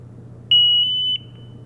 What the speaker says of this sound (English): When turning on the ALTAIR 5X gas detector, you depress the center button.